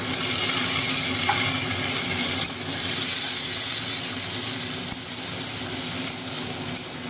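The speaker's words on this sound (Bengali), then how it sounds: "এবার এই পেঁয়াজটা এবার লাল লাল করে ভাজতে হবে" Onion and chopped tomato sizzle steadily in a hot pan with a constant crackling hiss, broken now and then by faint clicks of stirring.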